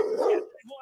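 A police dog gives a single close, loud bark that trails into a short whine.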